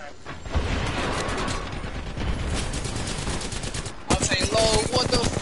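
Rapid automatic gunfire rattles in a round of the Apex Legends video game, sustained bursts with a sharper, louder volley near the end, over constant game noise.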